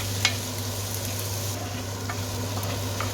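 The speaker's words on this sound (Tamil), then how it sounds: "இப்போ சிவப்பு மிளகாய் போடுறோம் கொஞ்சம் நேரம் பழக்கணும்" Red chillies frying in a pan while paneer masala is prepared, giving a steady, moderately loud sizzle with a constant low hum beneath and a few faint ticks and scrapes.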